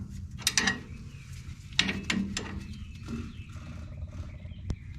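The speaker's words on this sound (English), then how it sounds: "I'm just compressing the pistons in a little bit." Wheel cylinder pistons on a drum brake are pushed inward with the bleeder open, giving close-up metallic clicks, creaks and scraping in short irregular bursts, with a faint hiss and a sharp tap near the end.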